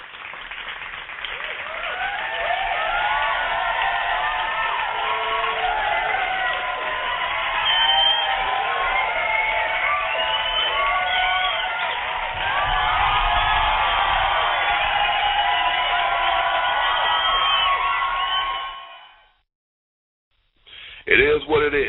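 A large crowd cheers and applauds steadily for about eighteen seconds, loud and dense with claps and whoops, before cutting to silence and a brief return.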